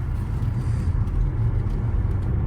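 A Subaru Solterra electric SUV drives along the road, its interior filled with a steady low rumble of tire and road noise and no engine note, constant and unbroken throughout.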